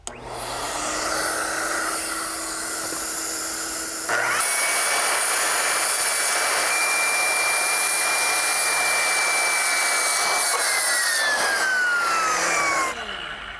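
A Makita power saw with a vacuum hose attached cuts James Hardie fiber cement siding: motor spins up, then a loud sustained high-pitched cutting whine for about nine seconds before winding down, with no talk.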